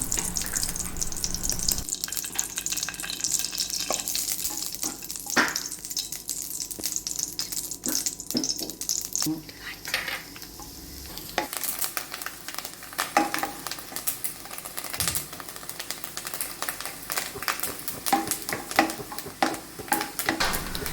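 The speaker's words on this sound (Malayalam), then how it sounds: "തേങ്ങ അരിഞ്ഞു വെച്ചിട്ടുണ്ട് ചെറുതായിട്ട് അരിഞ്ഞ് അതൊന്ന് നമുക്കൊന്ന് ഇതിലിട്ട് വറുത്തെടുക്കണം" Chopped coconut sizzles and crackles frying in hot ghee, with occasional clinks and scraping as it is stirred; no voices.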